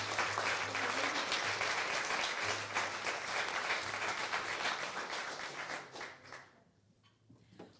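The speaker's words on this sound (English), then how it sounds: "Please clap your hands for our sound guy in the back" Audience applause for the sound engineer at a songwriter round-up show, a steady dense clapping that holds for about six seconds before thinning out and fading.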